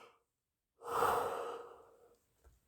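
A single drawn-out yawn, rising quickly and trailing off over about a second and a half, breathy and fairly close, with no talking over it.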